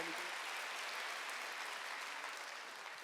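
A church congregation clapping together during a Wednesday worship service, a dense, steady wash of hands that fades slightly toward the end.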